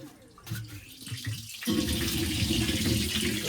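Water gushes steadily from a tap after a valve is opened on a lodge's water system, starting with a sudden loud rush partway through and then running continuously and close.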